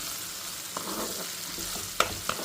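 Green chillies fry in a pan on low heat, with a soft continuous sizzle, a few gentle stirring scrapes and a couple of sharper pops near the end.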